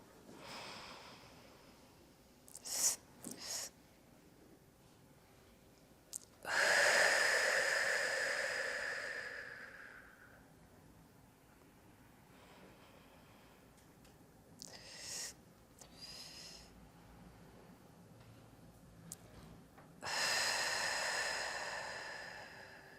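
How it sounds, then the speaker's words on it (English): A person does a sip breathing exercise: short, quick snatched inhales followed by long, airy breaths that swell and fade, repeated several times close to the microphone. "We'll just try some sip breathing."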